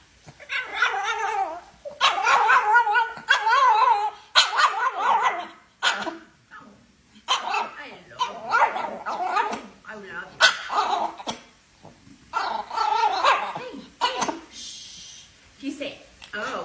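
A pet dog kissed on the head answers with a run of barks, yips and howling cries in short bursts, mixed with people talking and laughing nearby.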